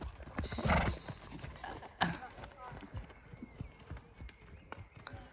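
Horse hooves clip-clop at a steady, lengthening pace during a bareback dressage test run, with a brief whinny and people talking over the hoofbeats.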